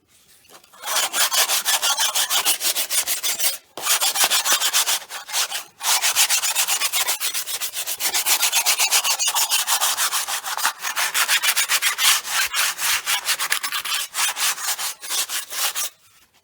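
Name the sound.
sanding a Corvette steering wheel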